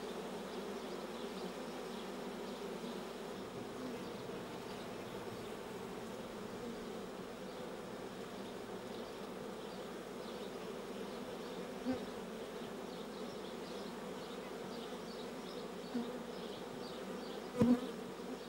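Honeybees buzz steadily around a hive, a faint, continuous low drone of many insects with a few brief louder passes near the end.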